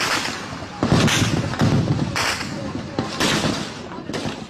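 Artillery shells and gunfire ring out during an armed clash between government and opposition forces in South Sudan, with repeated heavy booms and bursts at irregular intervals over a rough background.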